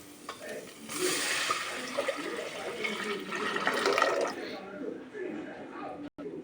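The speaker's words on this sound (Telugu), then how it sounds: "ఇప్పుడు రైస్కి సరిపడాన్ని వాటర్ అయితే పోస్తున్నా." Water pours steadily into a pot for cooking rice, a loud splashing rush that tapers off near the end.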